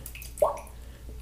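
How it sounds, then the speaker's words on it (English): Water drips onto a shaving brush in a couple of small, close plops a fraction of a second apart, quiet and isolated against a faint background hum. "I'm just dripping some water onto the brush."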